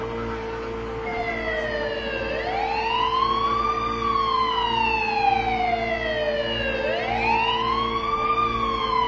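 Fire truck siren wailing as the engine arrives at a residential fire in Barangay 175, Caloocan City, rising and falling in long sweeps over a steady drone and crowd background, loud and near.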